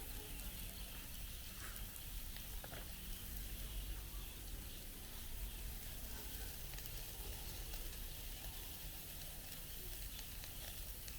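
Spam slices sizzling steadily on a Pathfinder PFM40 charcoal hibachi grill over glowing coals, a continuous close, even frying hiss with no pauses.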